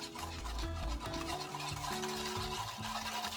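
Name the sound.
whisking honey garlic glaze sauce with garlic powder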